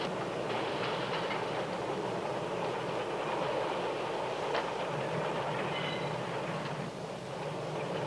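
A train rumbles past steadily, with rhythmic clickety-clack of wheels on rails and a constant broad roar throughout, no voices.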